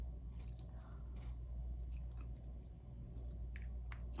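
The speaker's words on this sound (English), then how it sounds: "But I'm eating salmon, mashed potatoes, and then like a tomato cucumber salad that I like to make." Close, soft chewing of salmon, mashed potatoes and a tomato cucumber salad, with moist squishy bites and occasional crunches repeating over a steady low background hum.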